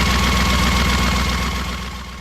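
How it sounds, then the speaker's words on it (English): Race car engine, a Silver Crown sprint car at Eldora, turning over on its starter: a steady, loud, low rhythmic churning that holds throughout and eases slightly toward the end, with no talk. "Here we're running the starter."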